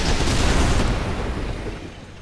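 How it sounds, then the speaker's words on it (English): Weapon fire booms in the strategy video game Civilization Beyond Earth, a loud burst of shots and blasts that fades out over a couple of seconds. "These are some wasted shots."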